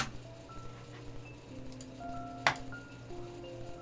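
A guitar part processed with delay and EQ that trims the high mids plays faint, clean, sparse notes that ring and echo over a low drone, with one sharp bright hit midway.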